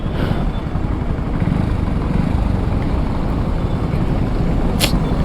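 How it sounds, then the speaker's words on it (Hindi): Dense road traffic heard from a motorcycle on a trip between Pune and Mumbai, with a loud continuous engine and road rumble and a brief high-pitched squeal near the end. "चलो ट्रैफिक है, पुलिस वाले चेक कर रहे हैं।"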